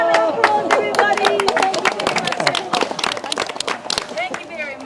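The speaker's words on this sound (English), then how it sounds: "Give them all a round of applause, everybody" A crowd applauds Māori performers in New Zealand. The clapping is dense and lively, mixed with loud voices and cheering that run through the whole stretch.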